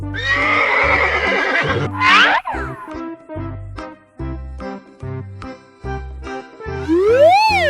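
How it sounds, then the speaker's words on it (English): Horse neighing on a farm: a loud, close, long whinny with a sharp rising squeal, then rhythmic clip-clop-like pulses under a steady drone, ending in another high whinny. "Horse."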